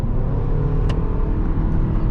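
A 2023 Toyota RAV4 with a four-cylinder engine accelerates, giving a steady, loud, low engine and road rumble that holds evenly throughout with no voices.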